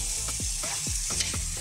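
Meat in tomato sauce is stirred in a frying pan for plantain lasagna, giving quick rhythmic scraping strokes over a continuous close sizzle, with no talking.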